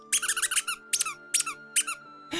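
A Corbeau plush toy squeaks in a run of quick, bright squeals, then three more separate squeezes, close and fairly quiet with no one talking over them.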